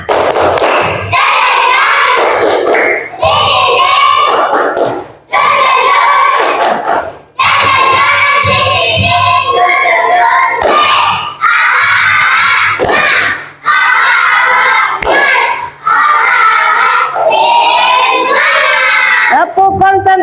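A classroom of children claps and shouts together in a rhythmic chant, loud and near, with short bursts of clapping and voices broken by brief pauses between phrases.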